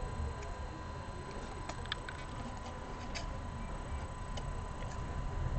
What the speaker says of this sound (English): so I'm just going to snip.